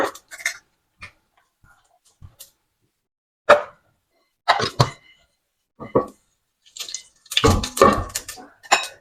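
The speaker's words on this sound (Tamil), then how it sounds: "கடுகு சீரகம் பொறிஞ்சு வரையக்குள்ள" Mustard and cumin seeds spluttering in hot oil, irregular sharp pops and crackles that are sparse at first and grow denser toward the end, close and with no talk.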